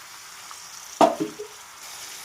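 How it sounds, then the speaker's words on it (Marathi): Oil poured into a hot pan for a dry brinjal curry bursts into one sharp, loud sizzle that quickly fades to softer crackles, with quiet kitchen background before and after. "जेवढे तेल आपण रोज भाजीला वापरतो त्याप्रमाणे तेल टाकून घेणार आहे"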